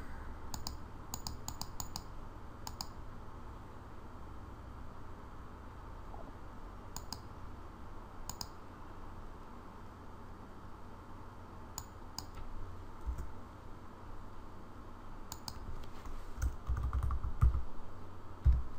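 Keys on a computer keyboard clatter in short, scattered bursts of quick taps as a logcat filter is typed into Android Studio, quiet and close, with long pauses between the bursts.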